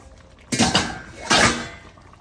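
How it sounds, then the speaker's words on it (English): A lid goes onto a cooking pot of carrots for chop suey, two quick metallic clanks a moment apart, close and fairly loud in a quiet kitchen. "Let's put our lid on."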